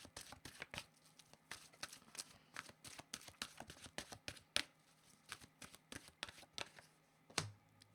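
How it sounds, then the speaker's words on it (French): Oracle cards being shuffled for a reading, a quick, dense run of crisp riffling slaps and flicks close up, with no talking. "Je vais demander une carte de mon oracle de l'âme intuitive."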